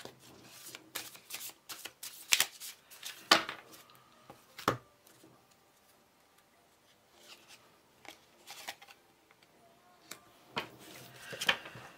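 Tarot cards being shuffled and handled during a reading, with a run of crisp riffling and tapping bursts that come and go irregularly, fairly close and quiet, and no talking over them.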